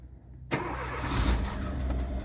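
A Hyundai i20 with a blown head gasket, clutch held in, cranks briefly and catches, then settles into a rough, rumbling idle heard close and alone.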